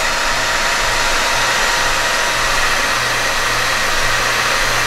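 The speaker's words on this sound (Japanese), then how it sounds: "使うのはドライヤーなんですけども、えドライヤーをこう熱ですね" Hair dryer on a heat setting aimed at an Epiphone Les Paul guitar body on a desk, a steady, loud, close blowing hiss with a low motor hum, unbroken throughout.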